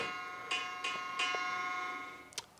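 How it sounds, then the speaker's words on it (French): The end bell of a workout timer rings several times during a home dumbbell biceps session, a series of bright metallic chimes with ringing tails at a moderate level, ending in a sharper strike. "Il y aura le cloche de la fin, tu entends ça"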